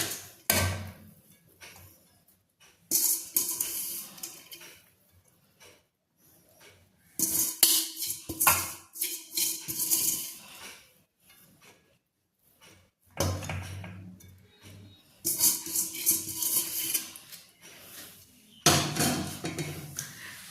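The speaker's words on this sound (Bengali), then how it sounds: "এবার এর মধ্যে আমি ফাইনাল লেয়ারটা দিয়ে দেবো রাইসের।" Rice spooned in as the final layer over an egg and prawn biryani in a pot, metal utensil clinks and scrapes coming in separate bursts with pauses, close and fairly quiet, no talking.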